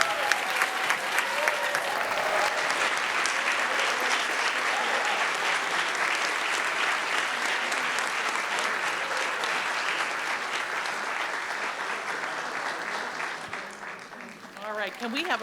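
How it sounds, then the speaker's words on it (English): A crowd at a town awards ceremony gives long sustained applause, a dense close wash of clapping that stays strong for most of the stretch and then tapers slightly near the end. "Can we have a round of applause for all of these wonderful men and women, boys and girls?"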